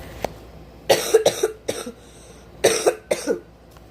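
A short cough, then two bursts of several harsh coughs each, close and fairly loud, with quiet gaps between.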